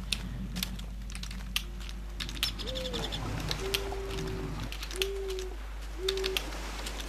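Soft cooing bird calls from the Minecraft video game, several short steady tones spaced a second or so apart, alongside constant keyboard typing clicks and a low hum, no talking.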